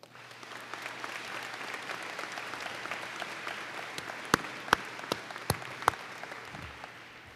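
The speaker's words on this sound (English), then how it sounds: "Let's give them a round of applause." A university convocation audience at UW-Stevens Point gives sustained, even applause that swells and fades, with a few sharp, close individual claps standing out near the end.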